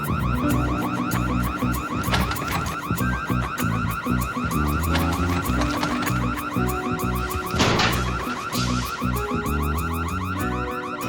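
An alarm rings out in a house during a television drama, a loud, rapidly pulsing electronic tone that repeats continuously with a few bangs and knocks mixed in.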